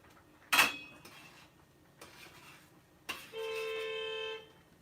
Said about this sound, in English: I think somebody just put their horn on.